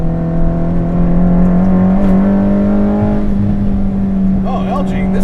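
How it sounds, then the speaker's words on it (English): A modified Nissan S13 240SX with a swapped SR20 engine drones and revs from inside the cabin, its steady engine tone climbing and settling, with a person talking over it. "Oh, LG, this car rips"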